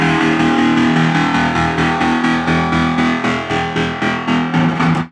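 Electric guitar played through an old distortion pedal, loud gritty rhythmic strumming with repeated pulsing chords that cut off abruptly at the end, no voices.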